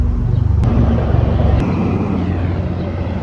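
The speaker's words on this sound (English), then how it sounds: "helicopter. Whoa, two of them." A deep, steady rotor drone of two helicopters passing overhead, loud and continuous with wind-buffeted low rumble throughout.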